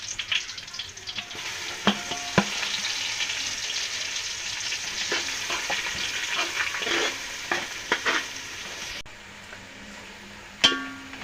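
Ground masala paste for Maharashtrian katachi amti sizzles and fries steadily in a hot pan, with occasional stirring clinks and scrapes, close and continuous throughout with no talking.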